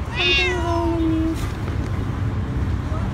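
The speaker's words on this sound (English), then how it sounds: "This kitty is so hungry, he wants food." A single loud, drawn-out meow from a nearby cat, followed by quiet background hum.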